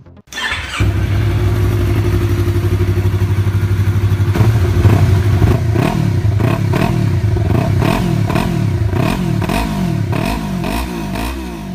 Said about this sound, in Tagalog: Sanay tayo sa mga twin-cylinder engine na ang tunog ay sobrang lutong tulad nitong YZF-R3.